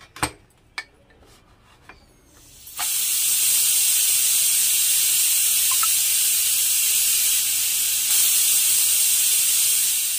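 After a few quiet knocks, a pressure cooker cooking field bean rice lets out a loud, steady hiss of venting steam that continues unbroken to the end.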